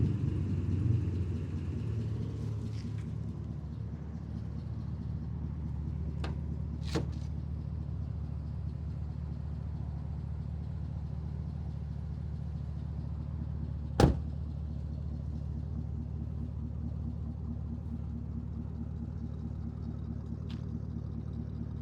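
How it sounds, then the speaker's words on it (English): A 2005 Pontiac GTO with a 400 hp LS2 engine idles with a deep, steady exhaust rumble throughout, with a few faint clicks and knocks over the top. "Exhaust sounds awesome."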